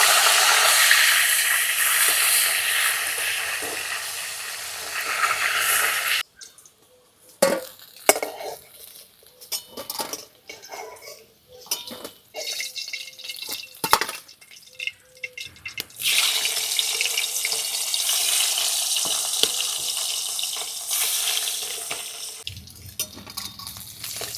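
Mango-stuffed snakehead fish frying in oil gives a loud, steady hissing sizzle, broken midway by a quieter stretch of scattered clinks and taps as it is flipped before the sizzle returns.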